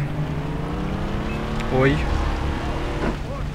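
A motorboat engine in the video game Far Cry 3 drones steadily at close range with a constant low hum, swelling briefly midway while someone speaks over it.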